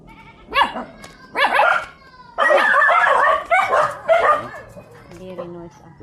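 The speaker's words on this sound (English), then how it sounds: "They can't hear you over the dogs and the motorcycle." Several dogs bark and yelp in loud bursts close by, with excited voices talking over them at a riprap repair site where a motorcycle is also mentioned nearby.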